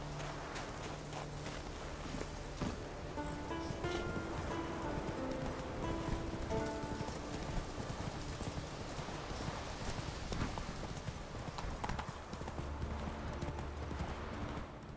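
Horse hooves clip-clopping on the ground in The Witcher 3, a steady walking rhythm with faint ambient game sounds around it, moderately close and quiet throughout.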